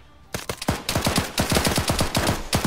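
Rapid automatic gunfire in Arma 3 laid down as suppressing fire, a steady run of sharp, evenly spaced shots with booming low tails, fairly close and continuous for the whole stretch with no talk.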